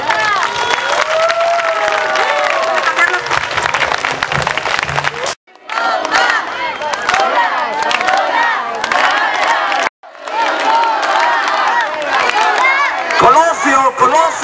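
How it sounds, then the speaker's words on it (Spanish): A crowd at a Christmas-season calenda roars with loud cheering, shouting and applause, sustained and close with excited voices calling out, broken by two brief cuts. "¡El aplauso fuerte, claro que sí!"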